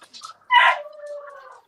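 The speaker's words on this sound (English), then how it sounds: "Got the dogs howling." Dogs howling: a short yelp comes first, then a louder rising howl that trails off into a thinner wavering tone. It is close and clear against a silent background.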